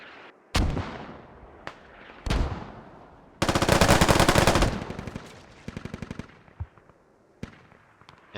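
Heavy gunfire in a video game battle: a few loud, separate booming blasts, then a dense burst of rapid automatic fire, a shorter rattling volley and a final scattered shot or two, all up close with no talk.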